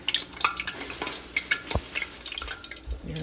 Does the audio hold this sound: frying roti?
yes